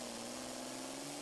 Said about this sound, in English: The Red Rock is a stable, hard-running Super Farm tractor.